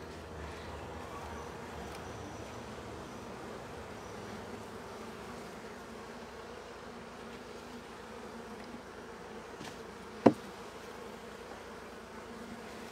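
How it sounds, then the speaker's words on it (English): Honeybees crowd over wax comb inside an open beehive, giving a steady, dense buzzing hum that holds evenly throughout, with one brief sharp click near the end. "these bees are all busy eating their honey"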